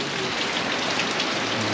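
Steady rain falling outdoors in a rural yard, a dense, continuous hiss of drops on surfaces at even loudness throughout, with no voices.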